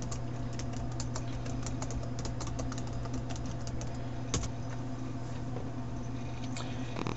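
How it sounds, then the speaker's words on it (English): Computer keyboard keys being typed to enter a password, a steady run of quick clicks over a constant low electrical hum, close and fairly quiet. "now I'm going to type in my password"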